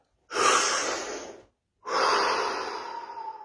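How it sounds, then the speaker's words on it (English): A deep breath taken during a guided stillness exercise: a long, close, airy inhale followed by a pause and then a slower, sustained exhale, loud and alone. "Take another deep breath."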